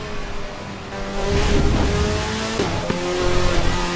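Race car engine in the Assetto Corsa EVO driving game, revving and shifting with tonal whine, tire squeal and skidding as the car pushes toward a chicane, loud and steady with brief gear changes.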